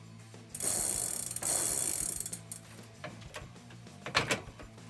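A ratchet clicks in rapid bursts while tightening the crank arm bolts on a square-taper crankset during a Mongoose ALX 1x10 bike conversion. The clicking comes up close and loud in two long runs, then tapers into a few shorter strokes.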